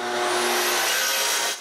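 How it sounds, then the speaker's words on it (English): An orbital sander works over wood for a small writing desk, giving a loud, steady whirring hiss that holds evenly and then drops away just before the end. "I also use an orbital sander. Actually, I spend the rest of the day sanding."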